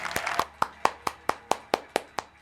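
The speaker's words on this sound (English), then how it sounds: "Let's give them a round of applause." Roughly ten sharp, evenly spaced hand claps ring out close by, a small group or a single person clapping in a steady rhythm to cheer on the Miyagi-Do Karate team.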